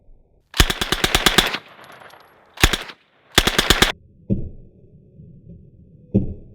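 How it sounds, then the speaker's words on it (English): A suppressed Uzi submachine gun fires three rapid bursts separated by short pauses. A couple of quieter metallic clunks follow. "Uzi!"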